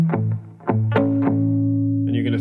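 Electric guitar with a distorted effects tone plays the last two chords of a chord progression in a guitar lesson, with picked strikes ringing into a sustained chord, close and fairly loud.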